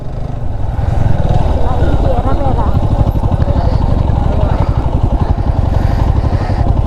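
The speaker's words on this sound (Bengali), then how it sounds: "বাইক নিয়ে উপরে উঠে যাচ্ছি। একবারে কাঁচা একটা রাস্তা," A motorcycle climbs a steep, rough unpaved hill road toward Mirinja Valley, its engine a loud, steady, close rumble and clatter throughout.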